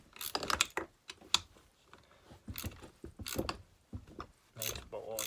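Ratcheting clicks and metallic clanks from a wrench working tight bolts loose on an old Homelite chainsaw being disassembled, coming in irregular close bursts with pauses between.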